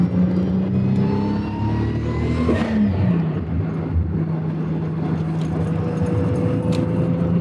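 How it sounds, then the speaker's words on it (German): A single-turbo VR6 engine in a Volkswagen Golf drones steadily and loudly from inside the car while driving, with a rise and fall in revs partway through and no talk. "Alleine dieser VR6 Single Turbo Sound ist halt immer wieder, ist halt irgendwie geil."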